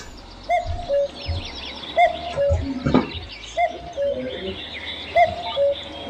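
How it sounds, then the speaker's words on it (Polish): A cuckoo calls repeatedly in the video game Farming Simulator 19, its two-note cries recurring at a steady rhythm, moderately distant, over a low ambient backdrop with no talk. "trzeba odjechać z tego miejsca, bo kuka ta kukułka"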